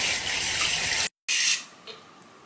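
Hot water pours from a tap while a soapy sponge is rinsed. The close, hissing rush cuts out briefly, returns and then fades to a quieter trickle.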